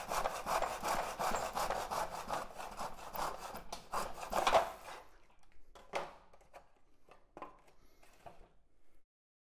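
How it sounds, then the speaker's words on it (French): A handsaw cuts a wooden board for a children's workbench in rhythmic back-and-forth strokes, close and steady, then stops; a few scattered knocks and handling sounds follow. "Donc, je vais encore scier un peu plus."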